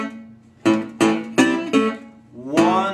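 Four plucked guitar notes from a delta blues riff ring out one after another, each with a sharp attack and a short decay, played close and clear with no talking.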